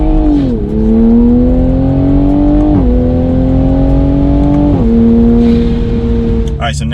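Toyota Supra accelerating at full throttle in second gear, a loud steady engine drone climbing in pitch with brief dips as load shifts, heard from inside the car, then easing off near the end with a short clatter.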